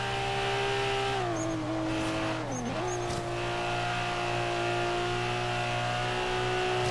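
Car engine in Forza Horizon 3 rally-cross time attack, a roughly 300-horsepower car holding a steady loud drone with pitch dips and rises as it shifts and lifts through corners, faint tire squeal at moments, continuous throughout.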